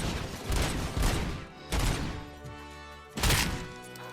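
Gunfire in the video game RoboCop: Rogue City, several loud, heavy bursts of shots in quick clusters with short pauses between them, close and booming over a low game soundtrack.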